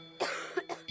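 Three sharp coughs from a person with a persistent cough, each a short loud burst separated by brief pauses, close and alone without talk.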